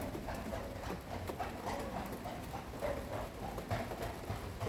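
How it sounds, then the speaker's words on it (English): A trotting horse's hooves clip-clop in a steady rhythm on soft ground, moderately close, with light background noise and no talking. "Of course, there's another horse coming"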